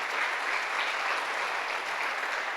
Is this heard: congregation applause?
yes